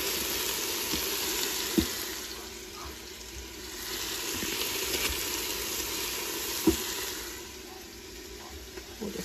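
Hamburger patties sizzle steadily in an Instant Pot as they are laid in one by one, a loud continuous frying hiss with a few soft clinks and taps from the scoop, close up and with no talk.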